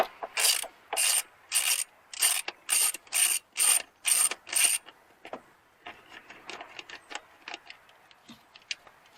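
A ratchet wrench with a 5.5 mm socket loosening screws on a distributor cap of a GMT 400 truck, first in a run of loud, close, evenly spaced clicking bursts, then quicker, fainter ticks trailing off.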